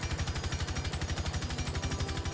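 Rapid automatic gunfire at the shooting range in Rainbow Six Siege: a fast, even string of sharp, punchy shots, closely spaced and loud, with no voices over it.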